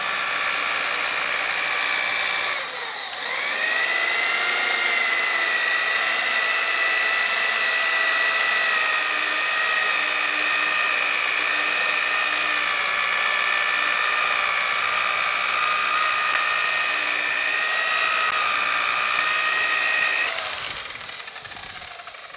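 A power polisher works tight spots on the five-window cab of a 1950 Chevy truck. It holds a loud, steady, high-pitched whine for about twenty seconds and changes pitch slightly where the pad shifts or bears down.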